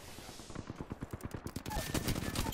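Rapid automatic gunfire from the video game Apex Legends on PC, a fast stream of sharp, evenly spaced shots that grows louder and denser near the end, with faint voices underneath.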